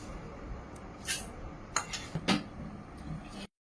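Plates and utensils clink softly and briefly as chow mein is served onto a plate, with a few scattered light taps and scrapes over a quiet room, no talking.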